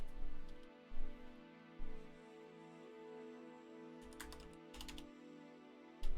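Computer keyboard typing during an online Blazblue Central Fiction netplay tournament, a few short bursts of key clicks separated by pauses over a steady background hum, no talking.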